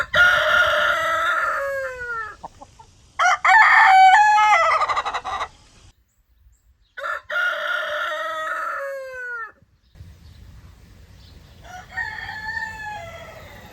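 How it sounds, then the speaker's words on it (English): Three farm roosters in a crowing contest, trading loud, near crows one after another in repeated bursts with short pauses between. "The Laughing Rooster, Joker, and Batman have been having a crow off"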